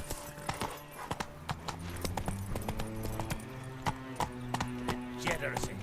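A horse gallops in The Witcher 3, rhythmic hoofbeats clip-clopping steadily and close, overlaid with game music and a speaking voice.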